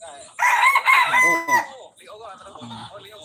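A rooster crows loudly and close by in one long, strained call with a rising and falling contour. A voice then speaks over quieter farmyard background noise.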